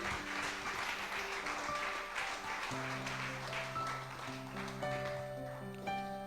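A church congregation claps together in a steady, rhythmic beat while music with sustained tones plays along.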